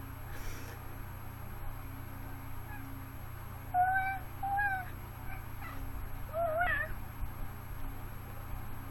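A pet cat chirps during a massage: a few short, rising, trilling chirps come in two brief clusters over a quiet background hum, fairly close and soft.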